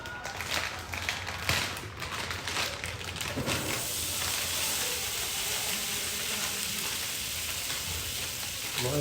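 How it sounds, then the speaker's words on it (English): Frozen potatoes sizzle in melted butter on a Blackstone E-Series electric griddle indoors, a steady loud hiss that swells after a few seconds of clatter and continues unbroken. "Love that sizzle."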